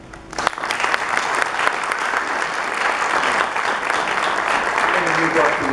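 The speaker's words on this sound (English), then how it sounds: "That alone is worth a major round of applause if he survives." A large audience breaks into sustained applause for a guest speaker, dense clapping that swells within the first half second and holds steady and loud to the end, with faint voices beneath.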